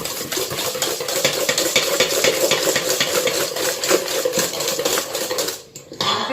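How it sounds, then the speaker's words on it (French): A hand whisk beats biscuit and cookie dough in a bowl, fast rhythmic scraping and clinking strokes, close and loud, pausing briefly near the end before resuming. "je vais battre le tout correctement. Donc avec un fouet à main"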